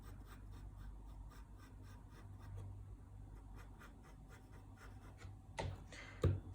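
A pencil sketches a light outline on paper, up close and quiet: soft, continuous scratchy strokes with a rhythmic back-and-forth, followed by a couple of louder taps or rustles near the end.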